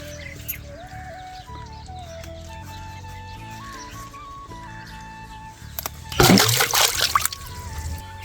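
Cut papaya pieces are washed by hand in water, with a short burst of close sloshing and splashing near the end, after a stretch of quieter sound with farm animals and birds calling in the background.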